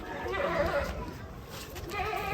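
A large sacrificial goat at an outdoor livestock market gives a few moderately loud bleats, one near the start and another at the end, over background crowd noise.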